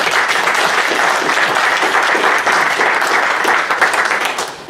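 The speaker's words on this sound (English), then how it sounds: "And a round of applause," Applause from an audience at a 2014 association election-of-officers meeting, a steady dense wash of many hands clapping at full strength, easing slightly at the end with no voices over it.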